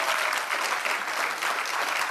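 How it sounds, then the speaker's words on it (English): A crowd on a cruise ship claps for the guests of a soca music panel discussion, dense and loud sustained applause filling the whole moment with no voices. "Give them a round of applause,"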